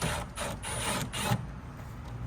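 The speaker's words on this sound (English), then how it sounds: "Let me unscrew this." Unscrewing a T25 screw from the tail light of a 2015 Ford Transit Connect, heard as close, faint mechanical ratcheting clicks and rattles in short bursts over about two seconds, with no talking.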